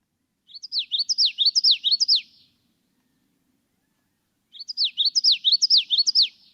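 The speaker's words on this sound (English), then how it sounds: "we have common yellowthroat, who says, this is the common one, witchetty, witchetty, witchetty" A common yellowthroat sings two clear, rapid bouts of its rolling witchety phrase, separated by a few seconds of silence, close and alone.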